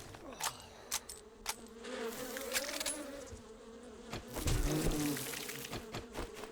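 Bees buzz in 7 Days to Die, a wavering insect drone rising and falling close by, with scattered sharp clicks and thumps from the game over it.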